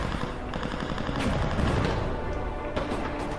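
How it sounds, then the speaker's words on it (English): Dense, continuous gunfire from a crowd of shooters firing at a lone figure in a Ghost Rider movie scene, loud and sustained with overlapping shots and a cluttered mix of action sounds. "there's conveniently a scene in Ghost Rider where a bunch of people are shooting at him"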